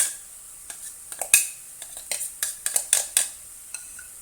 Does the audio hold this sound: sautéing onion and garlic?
yes